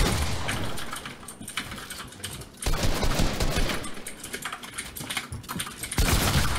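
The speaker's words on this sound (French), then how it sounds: "Désolé en tout cas pour les bruits des claviers" Fast, loud computer keyboard typing and clicking during a Fortnite-style 1v1 buildfight, with dense bursts of keystrokes that pause briefly and then resume in rapid clattering runs.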